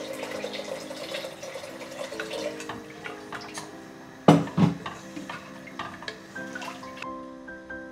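Water is poured into a pot of veg salna, a Tamil rickshaw-style vegetable curry, with a steady splashing pour, a sharp clatter of metal near the middle, and lighter kitchen knocks afterward; no talking.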